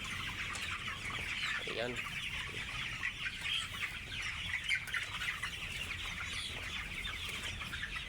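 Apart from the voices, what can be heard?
layer hens clucking on a farm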